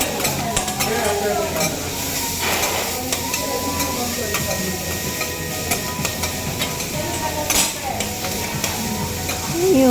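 Fried rice stir-fried in a hot pan, steady sizzling with scraping and stirring clatter throughout, a few louder metallic knocks, and voices talking faintly in the background.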